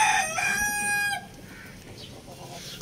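A rooster crows once close by, a loud bright cock-a-doodle-doo lasting about a second, followed by quieter background noise.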